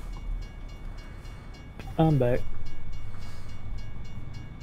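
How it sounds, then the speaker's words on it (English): A freight train rolls past in the American Truck Simulator driving game, a horn-like tone sounding briefly before a swelling, steady rumble; someone speaks over it. "I hear a train again."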